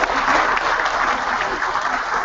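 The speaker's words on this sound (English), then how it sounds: "Please welcome him with a round of applause." An audience at a convocation ceremony applauds steadily to welcome a board director onto the stage, dense clapping sustained at an even, fairly loud level throughout.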